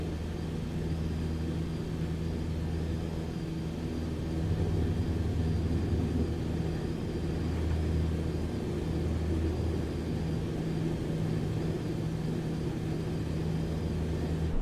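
A Cessna 152 Aerobat light plane in Microsoft Flight Simulator 2024 drones with a steady low engine hum and rumble throughout, even and continuous with a slight swell midway, no talking.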